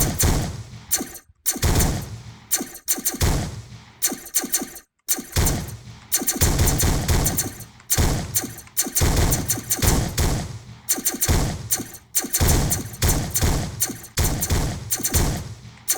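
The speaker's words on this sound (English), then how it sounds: "I like this explosion sound. That sounds pretty good. It's nice and fat." Chunky, punchy explosion effects from a space shooter game under development burst repeatedly in quick irregular succession, each a loud fat thump with a short noisy tail.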